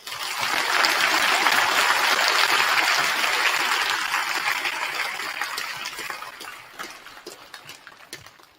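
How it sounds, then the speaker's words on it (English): An audience at a 2024 Veterans Day program gives the veterans a loud round of applause that swells, holds for several seconds, then thins out into scattered claps. "Crowd, let's please give our veterans another round of applause."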